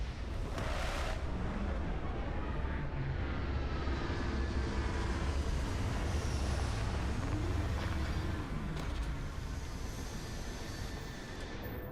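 Spaceship touching down in Starfield, a steady loud low rumble of engines and roaring thrust sustained throughout, with faint tonal sweeps and a brief hiss near the start.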